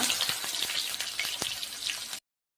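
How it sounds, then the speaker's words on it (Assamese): Onions with cumin and dried chili frying in a pan give a steady, crackling sizzle with scattered pops, close and fairly loud, before cutting off abruptly into silence. "পিঁয়াজখিনি ভজা হৈ গৈছে"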